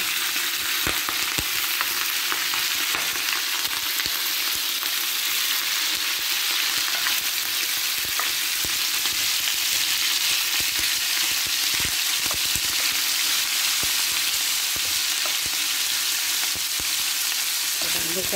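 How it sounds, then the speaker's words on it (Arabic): Food fries in olive oil in a pan for a tajine, giving a steady, close sizzle that stays constant throughout, with occasional small crackles and no talking. "غادي نخلي نقلاو"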